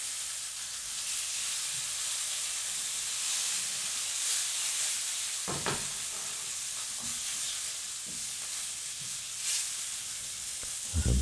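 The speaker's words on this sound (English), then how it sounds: "I'm not precious about not touching your searing meat" Meat searing in a hot pan gives off a continuous loud sizzle and hiss, with a few louder scraping stirs as the pieces are moved around, close up with no talking.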